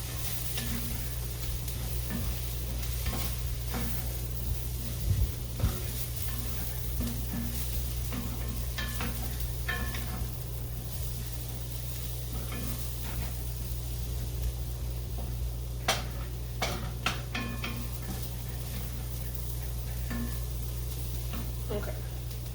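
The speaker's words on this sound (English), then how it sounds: "Stir all that up." Vegan calzone filling stirred in a frying pan, a soft continuous sizzle with occasional spoon scrapes and taps, heard over a steady background hum.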